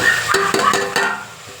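Chopped vegetables sizzle in a hot oil tempering for a cracked-wheat vegetable pulao, with several short scraping stirs of a spoon against the pan, close and alone.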